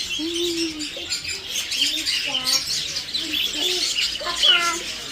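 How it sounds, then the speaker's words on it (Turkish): In a pet shop, several short squawks and whistled chirps, likely from a parrot, come from birds nearby, mixed with other birdsong and people talking softly in the background. "bak bu papağana bak Ayşima"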